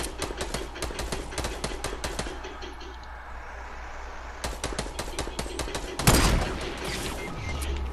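Fortnite video game gunfire with sniper shots, rapid sharp cracks in dense bursts, a lull, then more volleys and one louder close blast near the end, with no talking.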